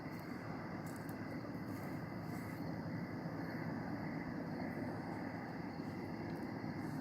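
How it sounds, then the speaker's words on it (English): A distant airplane drones steadily overhead on a quiet night, a constant low rumble holding at an even level throughout with no voices. "Usually airplanes, of course,"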